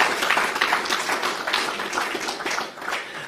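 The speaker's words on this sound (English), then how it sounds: "I think this is worth an applause" Audience at an investors' conference applauds in a quick burst of many hands clapping, moderately loud and fairly near, the individual claps distinct and unsteady in rhythm as it carries on.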